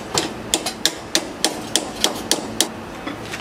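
A hammer strikes repeatedly at a steady pace, about ten sharp metallic blows close by, over a low background hum.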